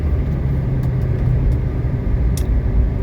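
A 1979 Mercedes 300SD on a road test drive, a steady low engine and road rumble heard from inside the cabin, continuous and fairly loud without changes in pace.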